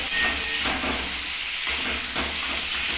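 Potatoes frying in hot oil in a pan, a steady broadband sizzle and hiss that swells in a few bursts as the pieces cook, close and fairly loud with no talking.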